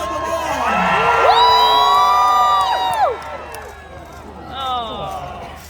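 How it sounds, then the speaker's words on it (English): A crowd at a medieval festival cheers jousting knights, with loud whoops and high rising shouts swelling for a few seconds, then a second burst of cheers, alongside some talk. "Let's cheer them on!"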